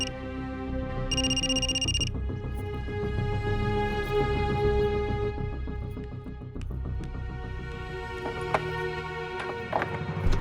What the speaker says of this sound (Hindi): सॉरी, मेरे पापा का फोन है।